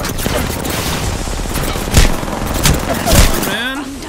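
Gunfire in the game Apex Legends: a dense, steady crackle of shots with three heavier bursts standing out, close and loud, ending in a brief rising whine.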